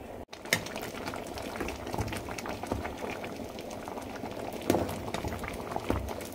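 A pot of mung beans and jackfruit simmering on the stove, giving a steady, close bubbling and burbling with occasional louder pops, with no talk over it.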